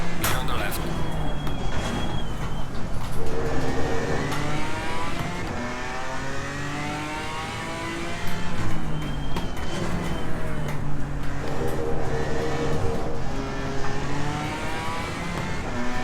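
A BMW M4 GT4 race car engine in Assetto Corsa Competizione, revving hard and loud through repeated rising gear pulls with brief dips at shifts, heard continuously throughout.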